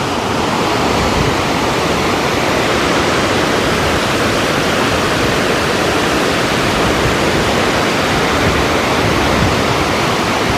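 Rushing Himalayan river water at the Vishnuprayag confluence of the Vishnuganga and Dhauliganga forming the Alaknanda, a loud, continuous, dense roar with no breaks or voices.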